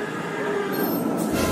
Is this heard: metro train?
yes